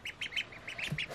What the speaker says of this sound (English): three Keke Campbell ducks